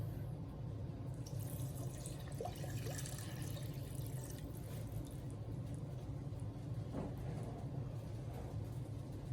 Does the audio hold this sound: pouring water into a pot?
yes